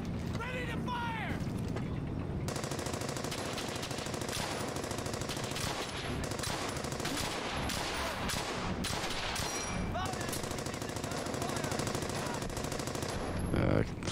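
Rapid machine gun bursts crackle through a World War II firefight in the Brothers in Arms: Hell's Highway video game, layered with mechanical rattles and distant shots, dense and continuous throughout.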